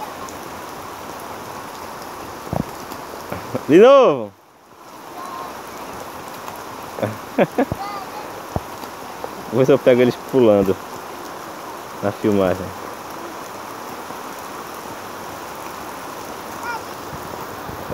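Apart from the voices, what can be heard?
rain falling while children play outside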